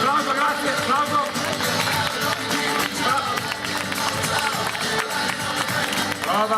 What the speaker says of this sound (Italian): Applauso, grazie, applauso.